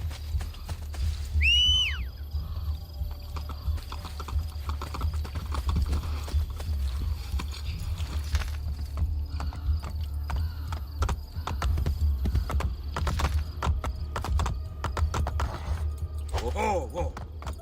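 Rapid galloping hoofbeats of a horse in a video game drum steadily throughout, with a short whinny early on and faint game sounds mixed in.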